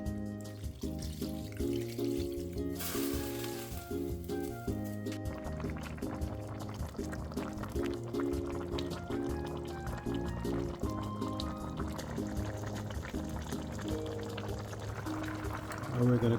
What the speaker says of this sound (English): We're gonna just rinse out the bowl that we seasoned our curry chicken in.